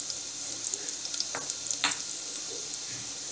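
Ground spices, chilli powder, turmeric and coriander powder, frying in a pan, a soft steady sizzle with a few brief scraping stirs, close and moderately quiet, no talking.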